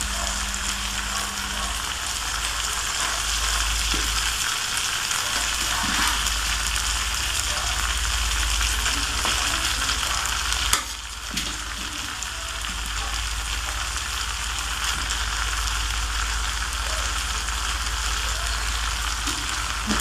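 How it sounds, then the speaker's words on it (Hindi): Rice being added to a pan of vegetables and fried for vegetable fried rice, a steady close sizzle running throughout with a brief louder clatter near the middle, no voices. "इस तरीके से मैं इसके अंदर चावल ऐड कर रही हूँ"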